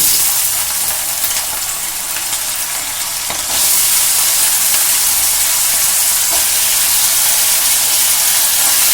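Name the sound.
potatoes added to hot oil with tempering spices, sizzling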